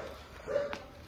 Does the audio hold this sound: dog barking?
yes